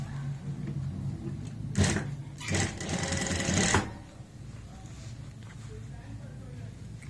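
A sewing machine stitches a women's shirt collar in two short bursts of quick mechanical whirring, close by, with quieter handling sounds and a person talking before and after.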